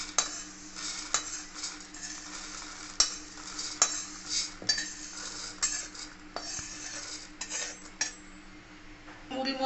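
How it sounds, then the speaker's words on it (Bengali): Hot puffed rice is tossed and stirred in a steel bowl for jhal muri, giving repeated sharp metallic clinks and scrapes in an irregular rhythm over a soft rustle and faint hum, close up, with no talking. "এবার এই কড়াইয়ের মধ্যে দিয়ে দেবো গরম মুড়িটা,"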